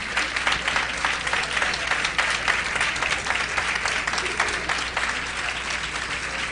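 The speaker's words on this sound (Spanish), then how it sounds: "Un fuerte aplauso para el coro." An audience applauds a choir after a performance, a dense, sustained wash of many hands clapping at steady loudness for several seconds.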